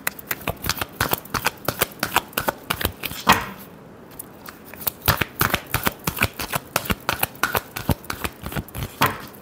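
Tarot cards riffled in a steady run of crisp, rapid shuffling bursts, close and clear with a brief pause partway, no voice over it.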